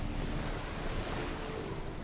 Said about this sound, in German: Geh aus dem Wind, das Segel flattert